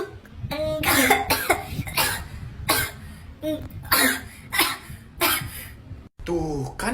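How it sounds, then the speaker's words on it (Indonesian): A young child coughs repeatedly in short, harsh bursts, around eight close-up coughs spaced about half a second apart. "Tuh, kan bener batuk."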